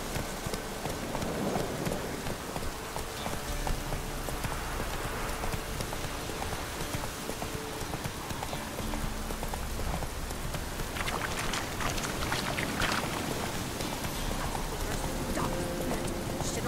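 Hooves of Roach, Geralt's horse in The Witcher 3: Wild Hunt, clip-clopping steadily through the game's wilderness, mid-level under rustling ambient noise with no voices.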